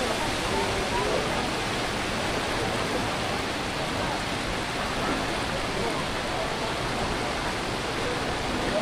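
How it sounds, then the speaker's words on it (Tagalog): Waterfall at the Villa Escudero resort in Tiaong, Quezon: a steady, dense rush of falling water, loud and close, unbroken throughout with no clear voices. "And then, eto na yung falls."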